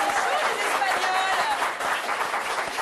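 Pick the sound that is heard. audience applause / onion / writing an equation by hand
audience applause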